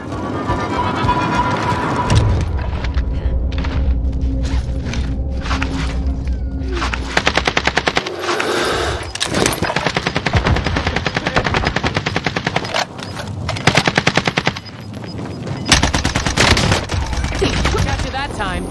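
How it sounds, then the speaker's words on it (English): A sentry gun in Call of Duty Warzone fires long rapid automatic bursts close up, mixed with other gunfire and game effects, while announcer voices talk over the shooting. "Sentry gun active!"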